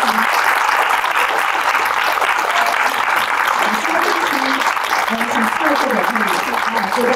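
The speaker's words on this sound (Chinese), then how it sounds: "请大家用热烈掌声欢迎！" An audience at a book-launch forum gives a long, warm round of applause welcoming the speakers, a dense, even wash of clapping throughout with faint talk beneath.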